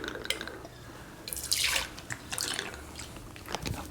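Liquor trickles into a measuring jigger for a two-ounce pour, a light, uneven dripping and splashing with short bursts of flow, close and fairly quiet.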